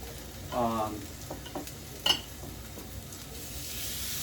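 Soft sizzling of salmon pan-searing in a frying pan, with a brief clink of a utensil midway and quiet kitchen noise around it.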